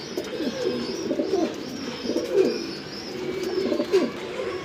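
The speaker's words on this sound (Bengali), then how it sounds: "ডাক দেখলে মনে শান্তি, এত সুন্দর ডাকে ওরা" Damascene pigeons for sale coo repeatedly in a low, rolling rhythm, several birds close by with overlapping calls and a faint chirp above, and no voices.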